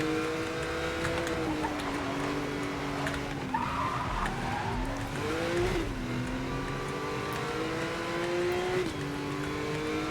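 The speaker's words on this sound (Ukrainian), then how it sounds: "Так що, їдемо, щоб знову дрифтинг виконати." A car drifting through a night city in Need for Speed: Most Wanted (2012), its engine droning steadily while tires squeal and skid continuously through long slides, loud and close with no voices.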